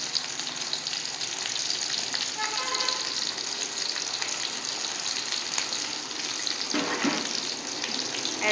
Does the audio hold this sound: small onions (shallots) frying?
yes